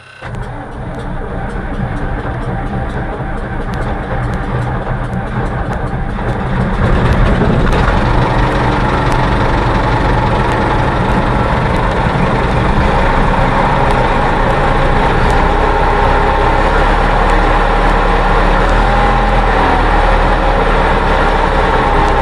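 Vehicle engine cranks and catches after clutch in and throttle, then settles into a loud, steady running drone that thickens around the seventh second, with no talk over it.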